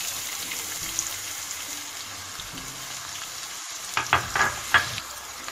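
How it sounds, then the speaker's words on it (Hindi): Onions frying in oil with cumin, a cinnamon stick and red chillies, a soft steady sizzle close by, with a few sharper spits and stirring clatters near the end. "हल्का से फ्राई करेंगे और इसमें डाल देंगे हम प्याज।"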